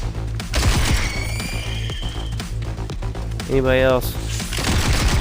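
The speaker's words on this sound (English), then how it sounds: "This SMG's not bad." SMG fire in the VR shooter Into Black, rapid bursts of close, loud shots repeating over a few seconds, mixed with game effects and a brief spoken line.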